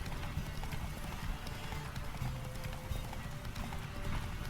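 Roach the horse gallops in The Witcher 3 game, with rapid rhythmic hoofbeats pounding steadily and close throughout.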